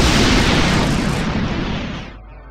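A loud explosion tears apart a building in Freedom Force, a dense roaring blast that rolls on for about two seconds before fading away.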